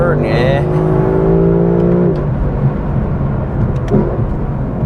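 Lexus LC 500 with a V8 engine revs with a loud, rising harmonic whine for about two seconds, then settles into a steady throaty rumble, all under continuous nearby talking.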